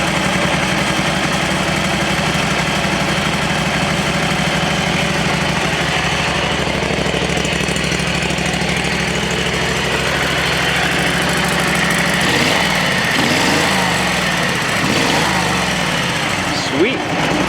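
A small engine idles steadily with the choke partly closed, giving a continuous close putter with some rougher patches later on, while a voice talks over it.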